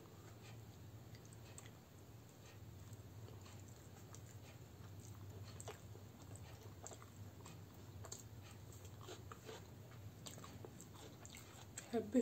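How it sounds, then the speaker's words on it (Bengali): Someone eats atta roti with egg kosha, soft biting and chewing sounds repeating quietly and close, with faint background hum and occasional light clicks. "এবার ডিম কষা দিয়ে খাচ্ছি"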